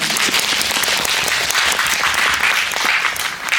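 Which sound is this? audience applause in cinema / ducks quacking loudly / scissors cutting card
audience applause in cinema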